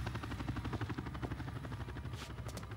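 A helicopter's rotor chops in fast, steady pulses with a dense mechanical whir in the video game 007 From Russia with Love, fairly faint and continuous with no talk over it.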